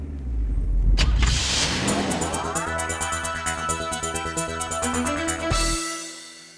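A sports car driving in Britain on a dry March day, its engine loud and close, revving with a rising, climbing pitch before cutting off sharply near the end.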